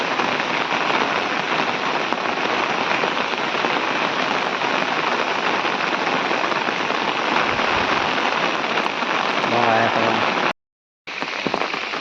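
Heavy monsoon rain pours down in the Konkan countryside, a dense, loud, unbroken hiss of drops striking surfaces, briefly cutting out near the end before resuming.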